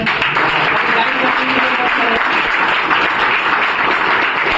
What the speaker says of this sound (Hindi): हमारे जो ट्यूटर है यहाँ पर 3-4 बंदे हैं, इनके लिए एक बार ताली हो जाए